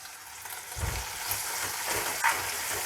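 Spinach and tomatoes fry on a high flame in a pan, giving a dense, continuous sizzle with a few brief stirring bumps and clinks.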